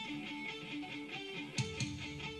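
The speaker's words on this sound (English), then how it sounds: "this is the sound of the guitar" Electric guitar played clean with effects pedals bypassed, steady sustained notes ringing at moderate volume, with a couple of sharp picked attacks near the end.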